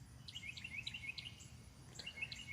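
Wild birds at a backyard feeder give quick, high chirps in repeated short bursts, faint and a little distant, over a low, steady outdoor rumble.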